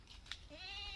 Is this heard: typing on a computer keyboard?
no